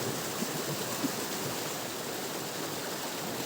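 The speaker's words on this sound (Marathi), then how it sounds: "खूप पाण्याला खूप तेज आहे बघू शकतो तुम्ही" A fast-flowing stream rushes in a steady, broadband roar, close and constant throughout with small splashes, no voices over it.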